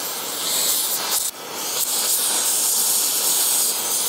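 A brazing torch roars with a loud, steady broadband hiss as it preheats a cast iron joint, with a brief dip partway through before the flame noise resumes evenly.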